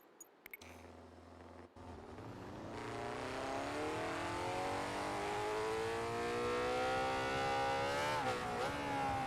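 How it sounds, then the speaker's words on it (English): An old superbike engine on soft tyres in the Ride 4 racing game idles roughly, then revs up and holds a loud, rising drone that climbs sharply in pitch near the end. "Oh, listen to that oldie engine."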